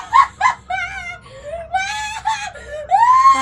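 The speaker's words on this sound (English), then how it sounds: "Don't scream like that." A person screams in high, wavering, wailing bursts, starting with two short cries and then long, rising and falling moaning shrieks, loud and close.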